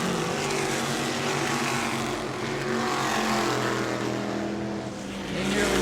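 Modified race cars roar around the New Smyrna track, a loud continuous engine drone with steady pitch and a slight dip near the end as they pass.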